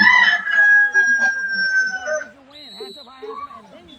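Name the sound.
rooster crowing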